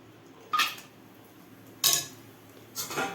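Cashews drop into melted ghee in a metal pan, giving three short, separate clinks and rattles against a quiet background, with no voices.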